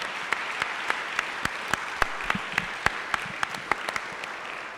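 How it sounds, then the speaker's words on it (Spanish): Audience applauds to welcome Javier Sicilia at a talk, a sparse, moderate clapping with distinct individual claps standing out rhythmically over a soft bed of hands for a few seconds. "Pido por favor recibir con un aplauso a Javier Sicilia."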